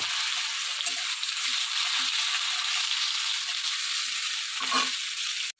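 Pieces of pointed gourd (potol) frying in hot oil, a steady, loud hiss and crackle of sizzling that continues unbroken before cutting off at the end.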